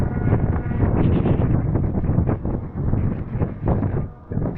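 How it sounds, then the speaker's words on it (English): Strong wind buffets the microphone at the open end of a fjord heading toward the Tasman Sea, a continuous loud roar with gusty surges and brief dips, with no voices. "Very windy, very rough."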